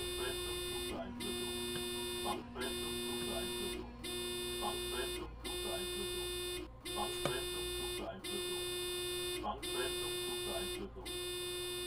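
Insistent warning beeper in a Train Sim World 3 cab, a steady electronic buzzing tone pulsing in long bursts with short gaps, repeating loudly throughout over the low rumble of the train interior.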